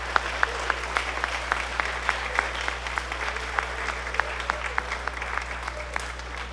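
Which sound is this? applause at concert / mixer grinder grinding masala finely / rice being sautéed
applause at concert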